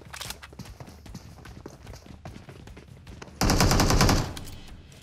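Gunfire in PUBG Mobile: rapid bursts of automatic fire crackle in quick runs, followed by one louder, sustained volley near the end.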